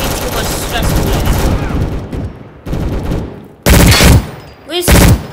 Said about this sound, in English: he keeps after me shooting